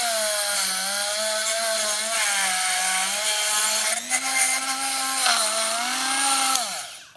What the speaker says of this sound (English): Might have to get the multi-tool on that one.